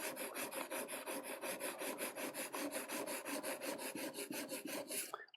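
A printmaking tool being sharpened with quick, regular rasping strokes, about five or six per second, close and crisp, ending abruptly.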